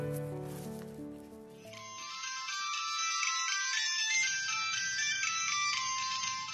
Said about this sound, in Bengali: আলিয়া ফোন করছে।